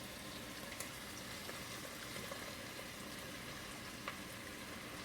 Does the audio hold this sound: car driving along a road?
no